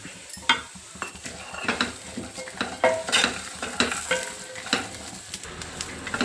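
Walnuts and melon seeds dry roasting in a pan, with rattling, scraping stirs and light clinks of a utensil against metal, close and continuous without talk.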